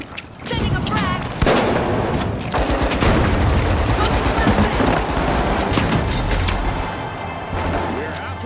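A frag grenade in the shooter game The Finals bursts amid a dense, continuous barrage of gunfire and booming impacts, loud and chaotic throughout with rapid shots layered over the blasts.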